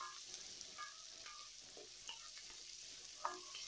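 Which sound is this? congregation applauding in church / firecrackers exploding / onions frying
onions frying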